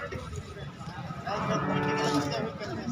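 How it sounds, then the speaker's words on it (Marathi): A cow at a cattle market gives a loud, drawn-out moo partway through, close by, with background chatter from people around it. "मित्रांनो गाय सोडून दाखवलेली आहे"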